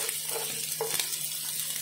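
Chopped onion frying in a pan for pilau rice, a steady soft sizzle with faint stirring scrapes throughout, close and alone without talk.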